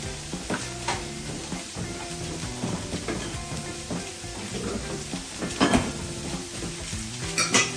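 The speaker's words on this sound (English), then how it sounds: "You're going to hear that saute pretty quickly." Loud, steady sizzling of peppers and onions sautéing in butter in a hot pan, with occasional scraping and clatter as they are stirred.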